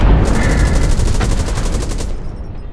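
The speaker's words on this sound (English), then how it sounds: "There is our artillery." Artillery fire in Hell Let Loose, a World War II shooter: a loud continuous barrage of rapid gunfire bursts with booming impacts, dense and close throughout with no pauses.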